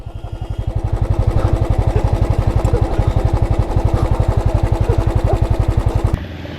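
A motorcycle engine idles at a roadside viewpoint on the hill road to Mirik near Darjeeling, a steady, close, loud rapid thumping that runs for about six seconds and then cuts off abruptly.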